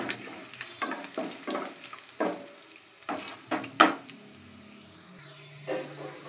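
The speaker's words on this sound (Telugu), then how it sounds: "కొంచెం కరివేపాకు, జీలకర్ర పోపు వేసుకున్నాం" Garlic cloves, curry leaves and cumin seeds sizzle in hot oil for a Telugu spinach dish, crackling in short bursts with a sharp pop near the middle, close and fairly quiet.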